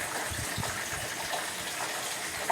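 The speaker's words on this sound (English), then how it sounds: "Now if it bubbles back up at you, you hear that? That sound?" Hot frying oil hisses and bubbles steadily around a small test drop of dough in a home kitchen, a continuous close sizzle with no speech over it.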